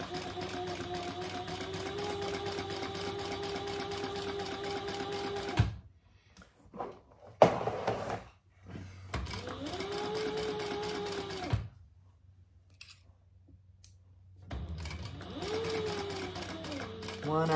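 Sewing machine basting a narrow seam an eighth of an inch in around a cork clutch, running in steady bursts that stop and restart several times, with someone talking between the stitching runs.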